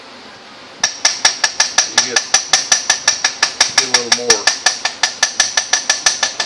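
A hammer taps steadily on gasket material, about two dozen sharp, evenly spaced metallic strikes close by, with someone briefly speaking between them.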